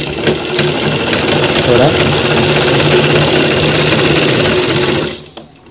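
A sewing machine runs loud and steady, double-stitching a trouser seam, for about five seconds before stopping, with a brief spoken word.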